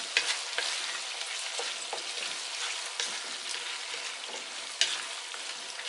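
Dungeness crab sizzles as it is stir-fried in teriyaki sauce, a continuous frying hiss broken by occasional scrapes and clinks of the utensil stirring the pan, with no talking.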